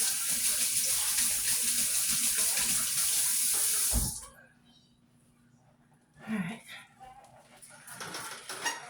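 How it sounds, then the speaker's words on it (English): A kitchen tap runs in a steady loud gush while hands are washed, then shuts off abruptly, followed by quieter handling noises and brief splashes. "Wash my hands."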